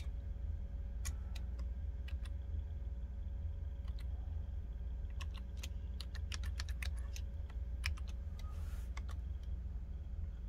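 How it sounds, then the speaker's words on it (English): Keystrokes on a computer keyboard as a password is entered at a PC, sparse irregular clicks in short bursts with pauses, close and fairly quiet over a steady low hum. "I gotta have a password typed in correctly."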